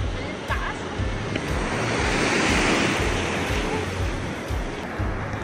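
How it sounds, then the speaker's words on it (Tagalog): Strong ocean surf at Kisami Ohama beach in Shizuoka, Japan, roars in a continuous broad wash of breaking waves, with gusty wind buffeting the microphone throughout. "Sobrang lakas ng wave."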